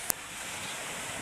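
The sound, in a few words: strong sea waves on the shore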